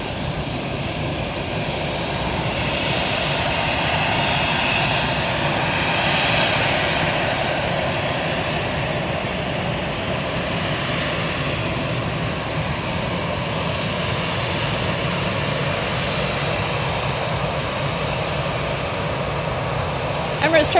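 A Ryanair jet at Manchester Airport roars steadily throughout, a broad loud engine rumble that swells slightly around the middle and holds without a break, with faint talk underneath.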